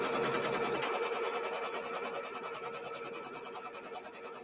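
A sewing machine runs steadily and close by while it stitches out the main border of a quilt block, giving a continuous fast mechanical whir with rapid rhythmic needle pulses and no talk.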